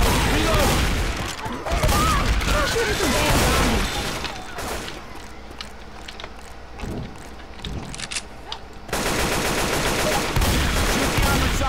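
Gunfire from the Left 4 Dead 2 video game, dense loud rapid shots in a continuous barrage, easing into scattered shots before a heavy burst resumes, with game voices under the firing.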